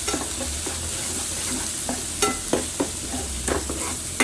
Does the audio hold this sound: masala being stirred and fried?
yes